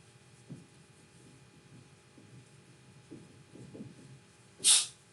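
A single short, sharp sneeze bursts out near the end, following a stretch of quiet, low murmuring classroom sound.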